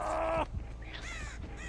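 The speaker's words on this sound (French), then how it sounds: "Les corbeaux." Crows caw in Dead by Daylight, a few harsh calls from the game's ambience rising over a low background hum after a brief loud passage at the start.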